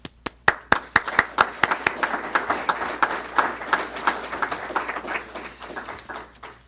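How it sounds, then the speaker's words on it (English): Scattered, crisp handclaps from a modest audience at a 2014 National Honor Society induction ceremony at IMG Academy. They start as a few sharp claps and settle into a loose, uneven patter that thins out toward the end. "We're very proud of you, and we applaud you this morning."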